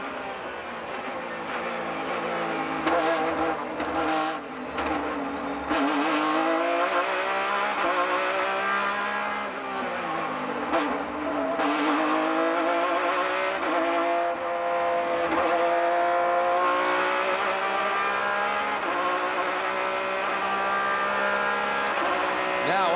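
Race cars including a Lola Nissan thunder past at Fontana during a 2002 IMSA Grand-Am race, engine notes rising and falling through gear changes, loud and continuous, with a commentator talking over them.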